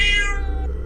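A cat growls low and menacing in a spooky horror-story setting, one sustained, close rumbling snarl with a tense tonal edge that fades near the end.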